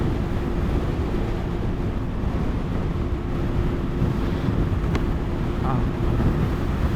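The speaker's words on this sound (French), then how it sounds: "On a beaucoup de vent par ici." Constant heavy wind buffeting the microphone while riding a 2022 Benelli 502C motorcycle, a loud low rumble throughout with no clear voices.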